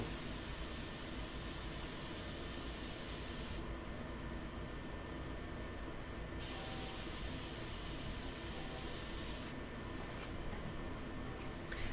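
Airbrush spraying India ink onto paper, a steady broadband hiss that runs continuously at close range, with its airy top end dropping out briefly in two stretches as the flow shifts.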